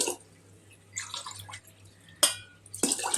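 Water splashes and pours in short bursts into a metal pot for cooking millet pongal with split moong dal, with clinks of cookware, close by and fairly quiet.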